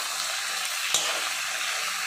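Vegetables fry in hot oil seasoned with salt and turmeric, a steady close hiss and sizzle that stays even throughout, broken once by a brief clink or stir.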